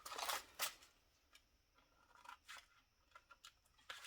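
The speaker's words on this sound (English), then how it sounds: "So I get my long scissors because I find I can cut a bit more straight" Long scissors snip through vellum paper in a few crisp, close cuts, with the strongest near the start and fainter snips after, all quiet and with no voices.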